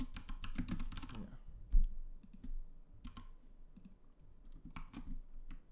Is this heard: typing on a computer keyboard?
yes